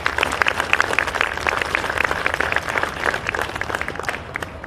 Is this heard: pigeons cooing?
no